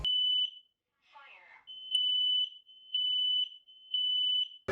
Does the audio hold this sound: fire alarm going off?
yes